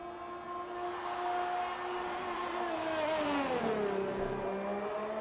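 A Ferrari Formula 1 car in a racing video game holds a steady high engine whine, then drops in pitch as it slows into a corner, sustained and fairly faint.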